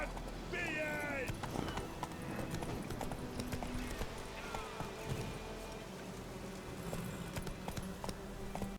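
Horse hooves clip-clop continuously in The Witcher 3, a steady galloping rhythm at moderate volume beneath voices and game sounds.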